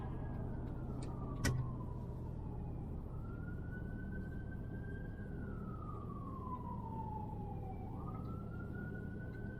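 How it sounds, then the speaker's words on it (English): Emergency siren wailing on a city street in Atlanta, its tone slowly rising and falling as it passes in traffic, heard from inside a moving car over steady road noise. "now we got a siren going the other way"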